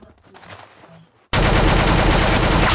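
Gunfire from the video game Roblox Arsenal erupts suddenly after a quiet moment, as a loud, dense burst of rapid shots that fills the rest of the clip.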